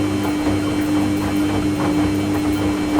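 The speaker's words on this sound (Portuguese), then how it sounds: "É o barulho da máquina de lavar roupa" A household washing machine running steadily, with a constant low mechanical hum and faint rhythmic churning throughout, no voices.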